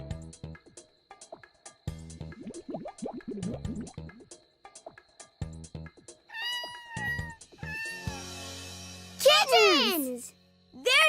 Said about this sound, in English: Kittens! There they are!